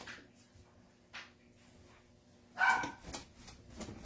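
A pet dog barks indoors during a furniture painting session, a couple of faint early yips followed by a louder cluster of sharp barks and whimpers near the end, close to the microphone.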